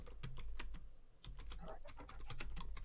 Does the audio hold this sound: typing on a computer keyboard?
yes